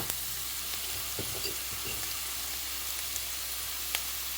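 Onions and mushrooms cooking in a pan give a soft, steady sizzle under low hum, with a few faint utensil scrapes and one light tick near the end.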